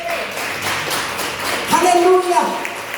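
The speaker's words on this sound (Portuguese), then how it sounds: "Aplauda o Senhor." A church congregation claps during a family worship service, with rhythmic claps repeating under loud speech and a sung or shouted voice rising in the second half.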